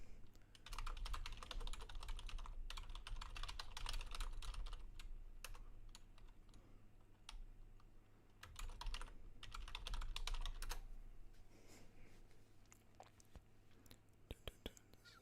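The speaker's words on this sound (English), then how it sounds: "let me just type it." Fingers tap a computer keyboard in quick clattering bursts, soft and close, with short pauses between runs of keystrokes and a quiet steady hum underneath.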